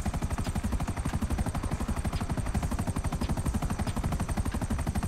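A helicopter in the video game GTA 5 flies with a loud, fast, even thumping rotor chop that continues without a break throughout.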